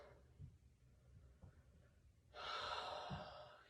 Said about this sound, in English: Let's inhale in through our nose.